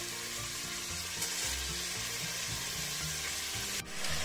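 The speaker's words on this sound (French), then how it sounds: "Je vais faire revenir mes roulades côté pli." Polish-style beef roulades brown seam-side down in oil with bacon and onion, giving a constant dense sizzle that is close and steady throughout, with no voices.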